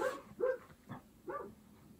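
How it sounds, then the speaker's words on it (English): Several dogs barking indoors in a home, three or four short yelping bursts spaced irregularly at moderate volume, a little distant, with no talk. "I'm really sorry about my dogs."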